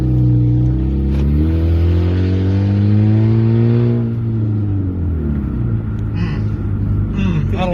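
A Dodge Dart with its muffler deleted revs loudly and close by, the deep exhaust rumble swelling and settling as the engine rises and falls, with brief voices over it.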